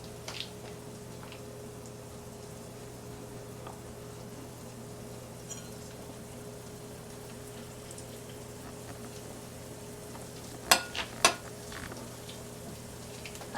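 Salmon patties frying in hot oil give a faint, steady sizzle with a soft low hum beneath, broken near the end by a couple of sharp clinks.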